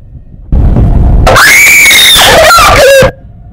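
A person screaming while playing a horror game, one long, very loud shrill scream lasting a few seconds with a wavering pitch, preceded by a burst of loud noise and ending abruptly.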